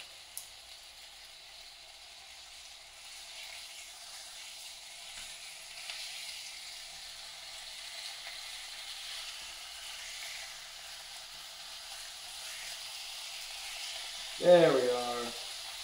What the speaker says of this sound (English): Now we got bacon going.